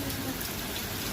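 Rain falling on water pooled beside a shop where ducks play, a dense steady hiss of drops throughout, with a voice talking faintly underneath.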